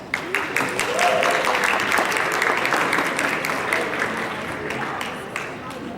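An audience applauds to welcome Brother Tahir Abdullah onto the stage at a university Muslim Student Association Fastathon dinner. The clapping is dense and sustained and fills the hall at a steady level for the whole stretch.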